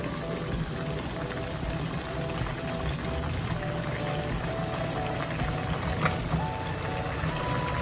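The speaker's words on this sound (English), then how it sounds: "Now I'm using that same can and I added water to this." Water from a tin can pouring steadily into a cooking pan while fried corn and tomatoes are prepared, a continuous close splashing stream that holds even throughout.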